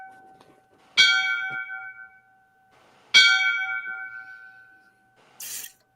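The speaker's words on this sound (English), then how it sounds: "I'm going to give him the 5 bells tonight" Two clear, resonant bell strikes ring out about two seconds apart, each decaying slowly, in a five-bell tribute for a fallen FDNY firefighter; a faint brighter chime follows near the end.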